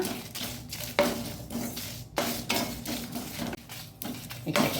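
Fenugreek seeds and three dried chillies are dry roasted in a pan over a low flame, giving light scraping and clinking of a utensil against the metal pan with occasional sharper knocks at a moderate, close level.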